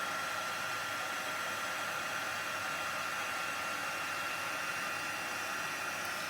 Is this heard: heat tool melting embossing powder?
yes